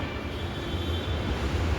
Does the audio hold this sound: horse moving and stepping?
no